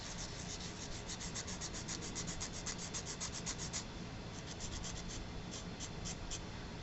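A fine sanding block rubs back and forth over the cut end of a cork in a steady, close, rhythmic scratchy swish, with no voices.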